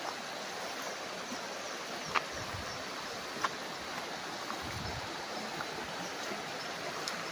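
A river flows steadily beside a farm lot in Real, Quezon, heard as a constant wide rush of water with a couple of faint clicks and no voices.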